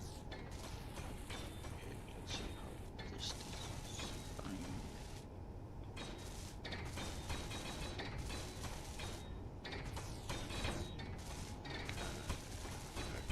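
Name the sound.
welding in the video game Space Engineers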